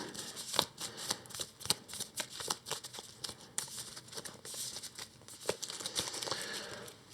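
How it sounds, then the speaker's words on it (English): Cards for the Earthborne Rangers board game shuffle close up in quick, crisp riffles and slaps, repeated in a steady rhythm with no talking. "then we shuffle the flood cards in here"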